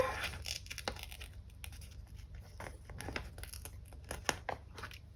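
Homemade paper stickers are peeled off a planner page, giving soft close tearing and crinkling paper sounds in quick irregular bursts, quiet and with no talking.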